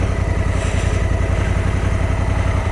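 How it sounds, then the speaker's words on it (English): A Honda Africa Twin's 1100cc parallel-twin, single overhead cam engine runs steadily up close, a loud, even low throb with a regular pulsing beat and no voices. "Hell of a big old engine, big old 1100cc parallel twin"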